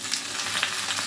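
Potatoes and broad beans frying in a pan with onion, a steady dense sizzle filling the moment, close and loud, with no talking.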